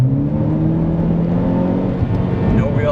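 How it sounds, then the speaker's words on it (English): A Ford Focus Electric floored from about 25 mph, a loud steady electric motor whine and road roar held close and continuous throughout, no talking. "we're just gonna floor it, see if we get any wheel hop or anything."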